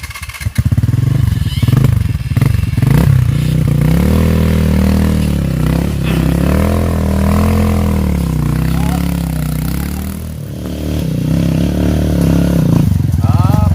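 A trail motorcycle engine strains and revs loudly up close on a steep uphill enduro trail on Mt. Paldingan, its pitch rising and falling, with clattering and scraping and a few shouted voices over it.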